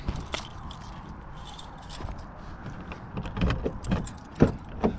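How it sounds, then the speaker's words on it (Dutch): Keys jangle in short metallic bursts while a car is unlocked outdoors at night, with clicks and rustles growing busier toward the end over a low background rumble. "Dan ga ik de auto open doen."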